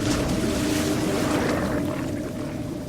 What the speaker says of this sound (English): Now that did sound like a water monster.